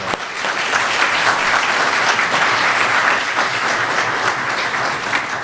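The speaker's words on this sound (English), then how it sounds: "let's give another round of applause for the successful challenge" A gathering in Fort Dodge, Iowa gives a round of applause for a successful Main Street challenge grant, a steady, full burst of clapping that holds loud and even for several seconds.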